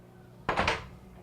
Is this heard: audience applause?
no